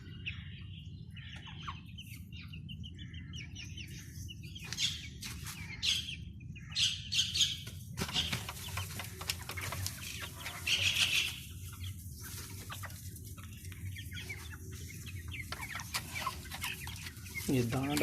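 Month-old Australorp chicks clucking and chirping in their new enclosure, a steady busy chatter of many birds close by, with a low rumbling background throughout.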